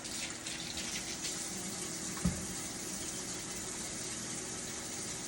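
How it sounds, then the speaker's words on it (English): Tap water runs steadily from a kitchen faucet while hands are washed during fufu and soup preparation, a continuous broadband gush at moderate level with one brief knock partway through and no talking. "I'm going to wash my hands."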